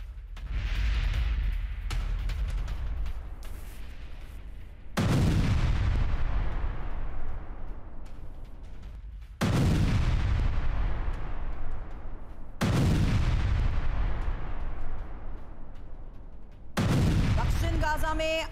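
Explosions demolish Hamas buildings in South Gaza: five heavy, deep blasts spaced several seconds apart, each a sudden loud boom trailing off into a long rumbling decay.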